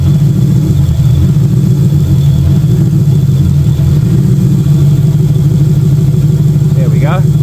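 A car engine burning E85 fuel on stock injectors idles loud and close with a steady, throbbing drone, and a voice speaks over it.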